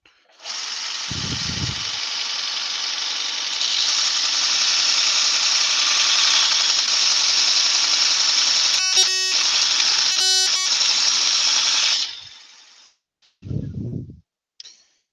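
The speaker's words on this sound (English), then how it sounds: "Just going to run my gouge over this, give it a quick sharpen." A bench grinder sharpens a woodturning gouge with a loud, sustained whining grind lasting about eleven seconds, broken by two brief changes in tone, then it spins down and a couple of short thumps follow.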